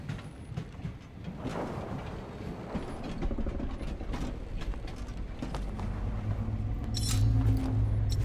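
Creaking, clanking train mechanisms in the game Voidtrain, with a steady rumble that grows heavier and louder toward the end, plus scattered metallic ticks.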